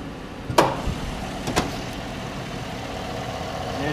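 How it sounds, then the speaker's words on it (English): 2014 Chevy Silverado 4x4 pickup's V8 engine idling under the open hood, a steady low rumble with a couple of sharp clicks near the start, close and alone. "And there's that V8. Running nice and strong, nice and smooth."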